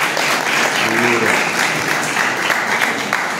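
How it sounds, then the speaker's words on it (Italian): Loud audience applause for young people at an Italian cinema event in Tuscany, close dense clapping that carries on steadily, with a short voice-like tone briefly showing through early on. "applausi ragazzi"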